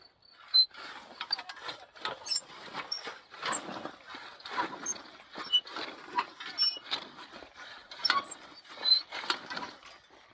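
A universal 5-in-1 hand cultivator with a hilling attachment works loosened garden soil, giving repeated scraping, rattling strokes in a steady rhythm. It is close and moderately loud, with no talking.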